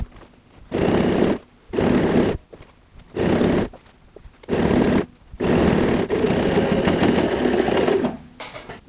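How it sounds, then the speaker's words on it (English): Sewing machine stitching binding along the edge of a handbag lining, running in five short bursts separated by brief pauses, then one longer continuous run, loud and close with no talking. "just go and sew the binding at the edge"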